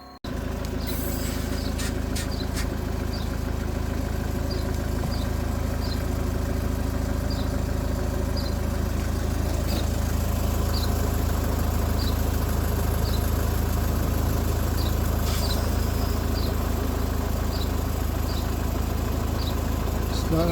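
Engine of a 2013 Ford S-Max idling during a DPF clean, a steady low, loud rumble held throughout with faint repeated chirps above it, and a voice speaking over it at times.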